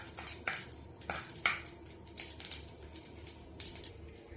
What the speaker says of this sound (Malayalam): ഒരു ചട്ടി ചൂടാക്കി 1 ടേബിൾ സ്പൂൺ എണ്ണ ഒഴിച്ച് 4 ഏലക്കയും 3 ഗ്രാമ്പും 2 കഷ്ണം കറുവപ്പട്ടയും ഇട്ട് ഫ്രൈ ചെയ്യാം